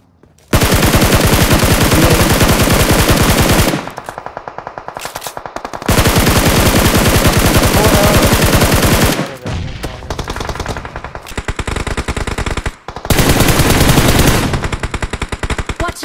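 Loud automatic weapon sprays in PUBG Mobile, several long sustained bursts of rapid fire close by, separated by short pauses and quieter stretches of fire, with no talking over them.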